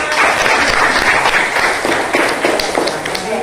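Audience applause in a school setting during a talk on student literacy, a steady, dense wash of clapping lasting a few seconds at moderate loudness, with no talking over it.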